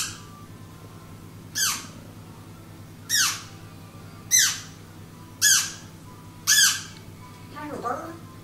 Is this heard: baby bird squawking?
yes